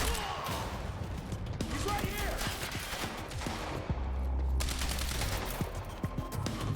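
Enemies shooting guns in Quantum Break, a scattered fusillade of sharp shots and bursts amid combat noise, moderately loud and irregular throughout the scene.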